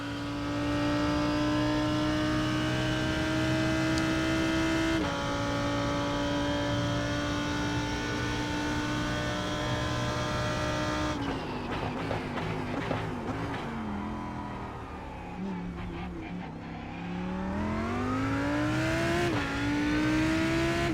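Race car engine in a sim racing game at Hockenheim, a loud, steady high-revving drone that holds, then drops through gear changes and braking before climbing again as the car accelerates out of a corner.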